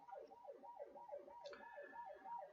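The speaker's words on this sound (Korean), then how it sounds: "지금 밖에 사이렌 앰뷸런스 소리가 나는데" An ambulance siren wailing outside in the street, a repeating rapid up-and-down yelp heard faintly and at a distance, steady throughout with no voices over it.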